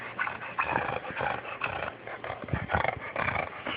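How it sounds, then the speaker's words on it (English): A dog snores and snorts close up, a steady rough, rumbling breathing with irregular rasping pulses, fairly quiet and continuous throughout. "This video is called Dog Snorting."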